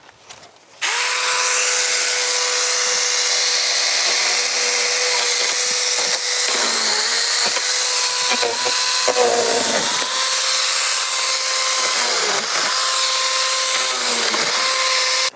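A Saker mini one-handed chainsaw cuts palm tree branches, its motor whining loud and steady up close, with the pitch dipping several times as the chain bites into the wood.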